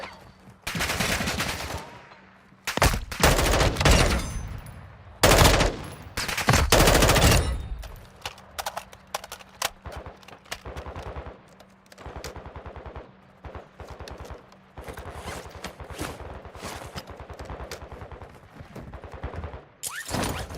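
Automatic weapon fire in Call of Duty MW3 DMZ rattles in heavy bursts, loud close volleys at first, then thinner scattered shots and crackling rounds continuing through the stretch.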